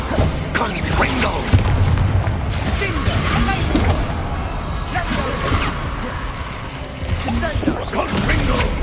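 Confringo fire spell explosions in Hogwarts Legacy on PC, heard as repeated booming blasts and whooshes over dense, loud battle noise throughout, with voices mixed in.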